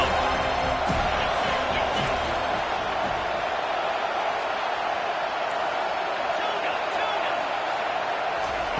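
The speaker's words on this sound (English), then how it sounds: "Decibels rising as the crowd gets behind this defense on third down" A football stadium crowd on third down rises into a dense, continuous roar that stays loud and even throughout, with faint claps and shouts inside the wash of noise.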